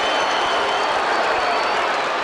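A big crowd of about 15,000 at Footy Park claps and cheers at an Australian football match, a dense, steady roar of applause that fills the whole stretch without a break.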